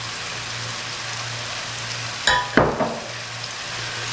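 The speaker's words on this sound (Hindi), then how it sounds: "इसको भी अच्छी तरह मसाले के साथ भून लेंगे" Ginger garlic paste frying with masala and onions for a mixed vegetable pulao, a steady rain-like sizzle with a brief burst of louder spitting and scraping near the middle.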